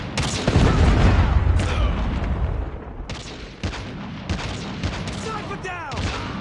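A loud, sustained blast from a Predator missile strike in Call of Duty Mobile, in a snipers-only match, opens the clip, then eases into a rumbling wash of gunfire, impacts and scattered game effects, with some voice chatter.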